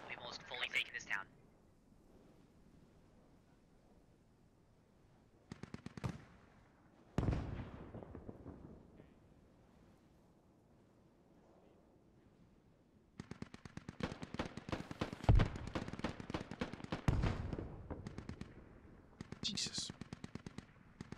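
Gunfire in the tactical shooter Squad, with scattered single shots early and then sustained rapid bursts of automatic fire near and far, while voices talk over the radio.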